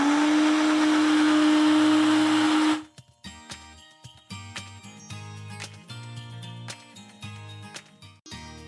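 Sugar, salt, vinegar and eggs being mixed, likely in an electric blender: a loud steady whir runs for about three seconds, then stops and gives way to clinking and jingling sounds.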